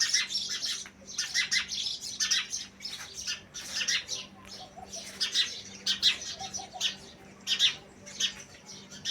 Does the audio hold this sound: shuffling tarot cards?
no